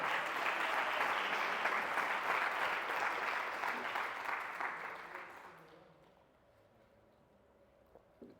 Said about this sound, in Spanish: Den una ofrenda de palmas